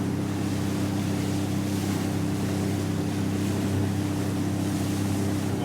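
Sea-Doo RXP 300 jet ski running steadily across calm water off Slipper Island, New Zealand, a continuous close engine drone mixed with splashing water and wind buffeting the microphone, no voices.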